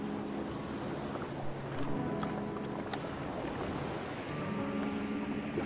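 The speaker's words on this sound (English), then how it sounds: "Sounds like it's bubbling." Water bubbles steadily in the Slime Rancher 2 video game, a continuous soft, wash-like gurgle that holds a low, even level throughout.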